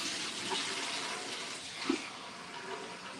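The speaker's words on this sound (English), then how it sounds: "I hear water." Water runs steadily from a tap, a soft continuous hiss of moderate level with a brief louder splash partway through and no talking.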